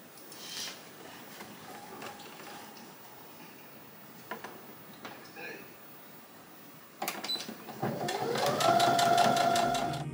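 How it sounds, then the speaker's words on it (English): A sewing machine stitches sleeves of a Christmas costume in a steady rapid buzz during the last few seconds, after quieter handling clicks and faint sounds. "we'll take the sleeves to the sewing machine and get them stitched in place"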